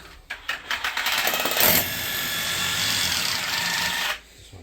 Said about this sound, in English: Just kind of tap it with your drill bit, see if you're solid.